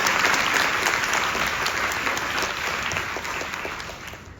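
A live audience at a music talk and performance event applauds, a dense wash of clapping that starts strong and gradually thins and fades over several seconds, with no talking over it.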